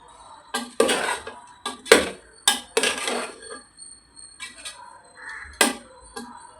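Mushroom biryani is spooned onto a plate in a run of sharp, close clinks and scrapes of a serving spoon against dishware, spaced irregularly with quiet gaps between them.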